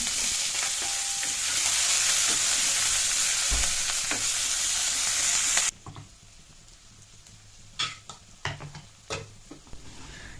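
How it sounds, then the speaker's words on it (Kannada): Chopped onions fry in oil with bay leaf and cumin for a hotel-style cauliflower gravy, loud continuous sizzling for several seconds that then drops suddenly to quieter crackle with intermittent stirring clatter. "ಆ ಈರುಳ್ಳಿನ ಹಾಕಿ ಚೆನ್ನಾಗಿ ನಾವಿಲ್ಲಿ ಫ್ರೈ ಮಾಡಬೇಕು"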